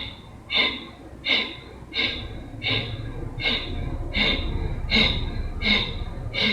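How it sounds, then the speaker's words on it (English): Rhythmic breath of fire yoga breathing, a steady run of about ten sharp nasal exhale pulses spaced roughly half a second apart, loud and close, with no talking. "15 slow, steady breath of fire."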